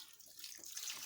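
Water poured into cassava flakes while preparing fufu, a faint, short hissing splash of liquid running continuously for about a second, with no talking over it.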